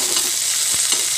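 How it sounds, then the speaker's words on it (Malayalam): Shallots go into a pan of frying peanuts for a broken-wheat upma, a short burst of loud, close sizzling with a faint stirring scrape. "ഇതിലേക്ക് നമുക്ക് കുറച്ച് ചുവന്നുള്ളി ചേർത്ത് കൊടുക്കാം"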